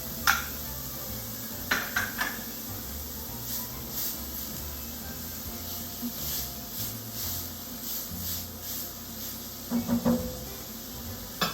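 Onions, celery and carrots cook in a pot with a soft, steady sizzle and hiss, broken by a few sharp clinks of a utensil against the pot near the start and again toward the end.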